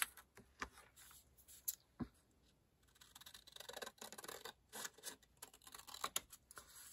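Sharp snipping and crisp cutting strokes, like scissors working through paper, arrive in irregular bursts, close and fairly quiet, with no one speaking.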